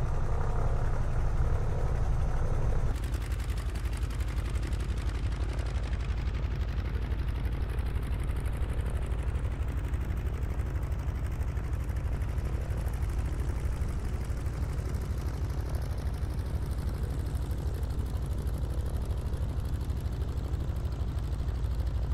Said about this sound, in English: Love the sound of these engines.